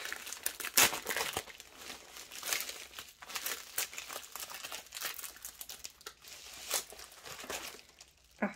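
Protective paper peels and crinkles off a very large canvas, a continuous stream of close crackling, tearing and rustling with sharper bursts throughout.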